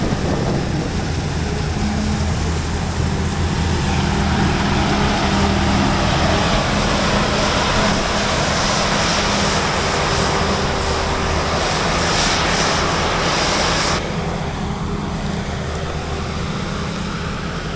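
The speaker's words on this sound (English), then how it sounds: "They're running 3 tractors right now" Several tractors run continuously during a corn silage harvest, making a loud, steady engine drone and broadband roar that holds for the whole stretch, with a slight drop in level near the end and no talk.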